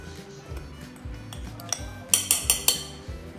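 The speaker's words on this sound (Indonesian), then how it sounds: "Kita aduk" Utensil stirring batter with flour and baking powder for dry Kolombeng sponge cake, a rhythmic series of scraping strokes against a bowl that ends in several bright, close clinks.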